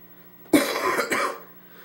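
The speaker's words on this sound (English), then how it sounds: "I'm so sorry about this coughing" Two close, harsh coughs from someone speaking into a microphone, a sharp first burst followed by a second about half a second later, loud and alone with no talk.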